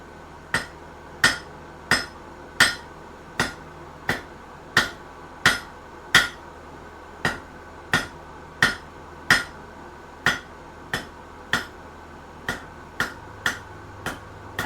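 A hammer hand-forging nails rings out in about twenty sharp, evenly spaced metallic blows, each a bright crack with a short decay, heard close and alone with no talking.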